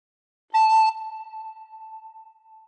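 A single sustained recorder note, played with the thumb hole and the top two finger holes covered, starts with a breathy attack and holds steady and clear for about two seconds.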